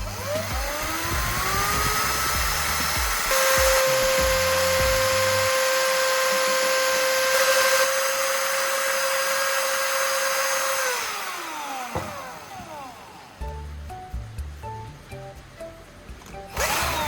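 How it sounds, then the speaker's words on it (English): A power tool grinds a battery core into a soldering tip with a loud, steady high whine that holds for several seconds, winds down, then restarts in choppier bursts. "Next, I'll grind the battery core to shape it into a fine soldering tip."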